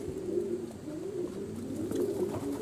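Pigeons gather at a small rainwater puddle on a rooftop to bathe, cooing steadily in soft, repeated low calls, near and moderately loud with no voices.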